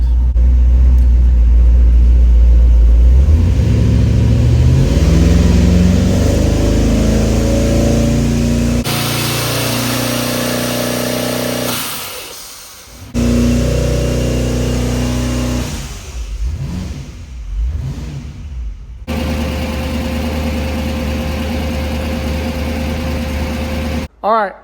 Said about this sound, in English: We're gonna put it in gear, put it on the trans brake, and see if we can get it to build any boost.